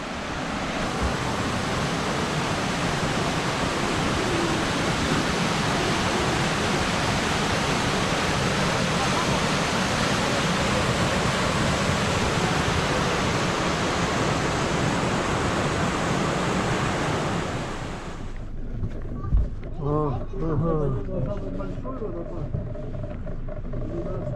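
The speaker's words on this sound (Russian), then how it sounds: "Вон водопад, 12 метров высота у него, но высоты падает вода." A 12-metre waterfall roars in a steady, loud, broad rush of falling water for most of the stretch, then cuts away to quieter surroundings with people talking.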